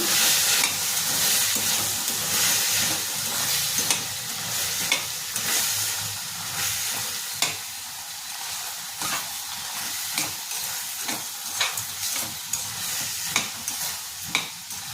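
Beetroot and chickpea gojju with salt frying in a pan while being stirred: a loud, continuous sizzle with repeated scraping strokes of the spoon, growing more rhythmic in the second half.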